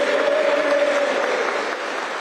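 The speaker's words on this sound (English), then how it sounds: "Well, big cheer there for Ben Houchin, even if he has lost quite a" A crowd at an election count in the Tees Valley applauds and cheers a mayoral result, a dense, steady wash of clapping that fills the room and eases off slightly toward the end, with a faint tone running underneath.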